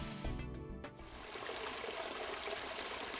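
Water flows and trickles steadily in Lower Newport Creek, an urban stream, with a continuous close babbling wash and a few sharp clicks near the start.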